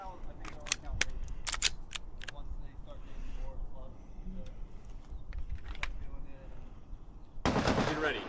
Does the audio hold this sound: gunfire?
yes